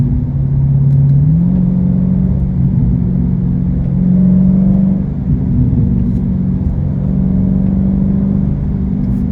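A loud Dodge Charger Scat Pack engine rumbles steadily, with a couple of revs rising and easing back, throaty and close throughout.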